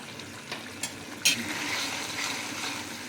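Chhana korma gravy simmering in a pan, a steady soft bubbling hiss with a few sharper pops and clicks near the start, continuous and close, with no voices.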